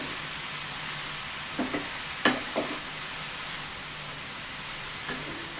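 Steady hissing sizzle of onion, green chilli and curry leaves with raw papaya in a pan, with a few scraping stirs of a utensil breaking through briefly.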